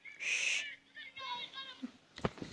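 A short owl-like hoot from a bird in Brawl Stars rings out, followed by softer chirping calls and a brief noisy burst near the end.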